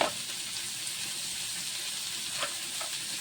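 Tomato and ginger fry in a pan, a soft continuous sizzle close by with a few faint stirring clicks, no voices.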